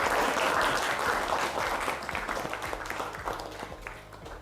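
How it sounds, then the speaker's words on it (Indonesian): Schoolchildren in a classroom clapping together in a steady, dense burst that gradually thins and tapers off, fairly close. "Tepuk tangan ya anak-anak."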